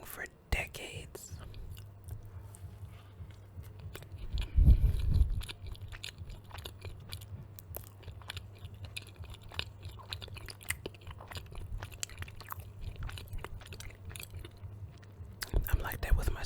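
Close-up eating of greens and Popeye's biscuits, with soft wet chewing and occasional crunchy bites under a whispering voice and a low steady background hum.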